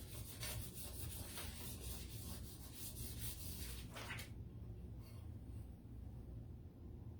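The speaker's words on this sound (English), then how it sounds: "you're supposed to take this and kind of rub it" A transfer is rubbed down onto a chalk-painted tin can, making a steady, close, dry rubbing and scraping that runs continuously before easing off near the end.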